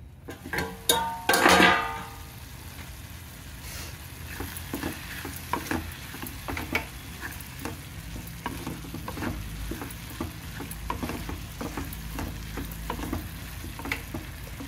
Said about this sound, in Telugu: స్టవ్ సిమ్లో పెట్టేసి కాసేపు మూత వేసుకుని మగ్గనిచ్చుకున్నామండి.